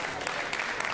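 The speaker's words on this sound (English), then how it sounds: "Give them a big round of applause." A lecture audience claps for student volunteers after a physics demonstration, a dense, fairly close burst of applause lasting about a second.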